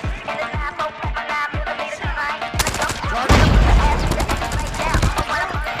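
Rapid bursts of automatic gunfire in the Call of Duty Mobile shooter game, loud and close, becoming a dense continuous barrage in the second half, with game voice lines heard earlier.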